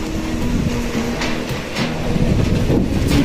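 Strong wind gusting through a hail and rain storm in Ramechhap, a continuous broadband roar that holds steady and loud throughout, with no talk over it.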